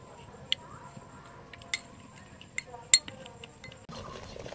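A spoon clinks now and then against a bowl while mixing vinegar and a spoonful of cornflour for homemade tomato sauce, sharp isolated taps over a faint room hum, with a brief scraping rustle near the end.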